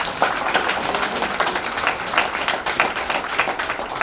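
Guests at a book launch clap together in a steady, fairly loud patter of many hands, continuous from start to finish with no talking over it.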